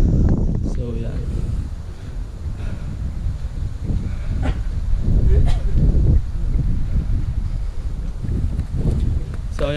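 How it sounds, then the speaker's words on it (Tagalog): Strong wind buffets the microphone at a hilltop panoramic viewpoint in Alicia, Bohol, a loud continuous rumbling roar with gusty surges, while people talk faintly underneath. "Hangin."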